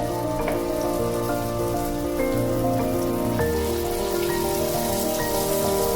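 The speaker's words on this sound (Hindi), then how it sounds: "और इनको सुनहरा होने तक फ्राई होने दें" Spoonfuls of ground lentil batter for dahi vada fry in hot oil, giving a steady, dense crackling sizzle like rain on a surface that runs unbroken throughout, with sustained musical tones humming beneath it.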